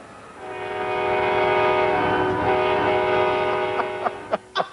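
An Amtrak passenger train runs between Albuquerque, New Mexico and La Junta, Colorado, its horn sounding a long, loud multi-tone blast over the rumble, then a few short sharp toots near the end.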